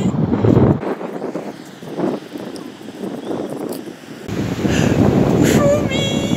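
Sea surf on a Belgian beach with gusty wind buffeting the microphone, waves washing in with rushing noise that swells and fades, loud and close throughout.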